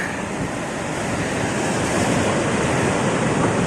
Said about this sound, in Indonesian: Sebelum ombak datang